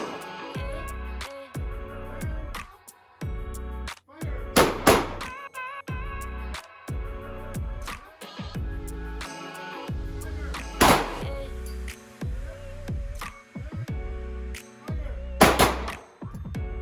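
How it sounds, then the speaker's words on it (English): Repeated loud gunshots are fired at a shooting range. Sharp individual reports come in an irregular series of about a dozen, close and echoing, with occasional voices between them. "Every time I tell you to fire, fire, okay?"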